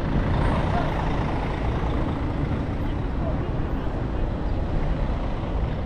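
Buses and tuk-tuks rumble at Vientiane railway station, a continuous low engine drone of idling and passing vehicles with traffic noise and faint talk mixed in.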